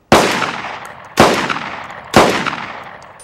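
A Browning Auto-5 long-recoil shotgun fires three loud, sharp shots about a second apart, each blast ringing out and decaying before the next.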